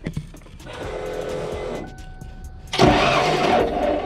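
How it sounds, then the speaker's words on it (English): A 351 Windsor stroker engine with a suspected broken timing chain cranks on its starter in two bursts, a whirring churn followed by a louder, harsher spin, close by with a brief pause between. "So we're gonna do our little starter trick button thing, and we're gonna see if that camshaft is moving."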